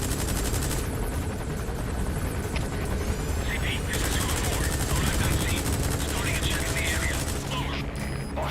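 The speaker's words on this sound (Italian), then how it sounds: "That's an enemy gunship." Enemy gunship helicopter in Metal Gear Solid V, its rotor roar persistent and loud beneath sustained gunfire and battle noise, a dense, unbroken wall of combat sound.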